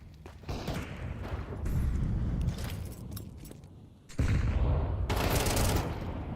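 Rifle fire from a Counter-Strike esports match, with dense bursts of gunshots, including an AK and M4s, under a steady game soundscape. The firing grows louder and heavier after a brief pause.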